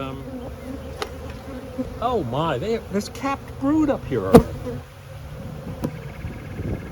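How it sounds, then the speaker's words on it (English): Honeybees hum steadily in an open, crowded hive during an inspection ahead of a split, a close, continuous buzz running beneath a person's excited talk throughout. "This is a hopping hive."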